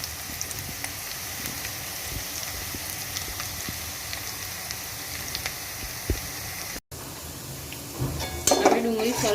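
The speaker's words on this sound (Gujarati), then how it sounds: "હવે ગેસ મીડિયમ કરી દઈએ આપણે આને સરસ શેકાવા દઈએ ડુંગળીને।" Onions fry in oil in a pan over a medium gas flame for poha, giving a continuous even sizzle with a few utensil clinks near the end, and a voice talks over it.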